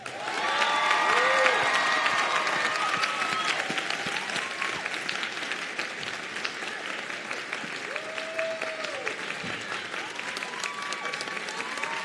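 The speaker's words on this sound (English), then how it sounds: "Give her a round of applause." Sustained audience applause at a graduation ceremony as a Doctor of Philosophy graduate is presented at the podium, steady and full from start to finish, with a few voices and cheers rising over the clapping.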